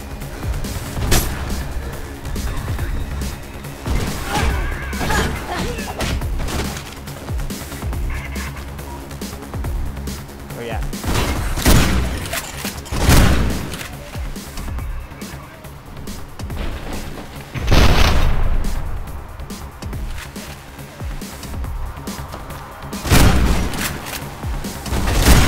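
Guards fire at a fleeing runner in Mirror's Edge, with scattered gunshots and booming impacts recurring across a busy game soundscape of engine noise and music.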